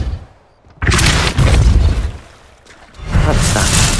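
A Depulso force spell fires in the fantasy action game Hogwarts Legacy: after a quiet moment, a heavy whooshing blast bursts in loudly, fades, then a second powerful rush follows.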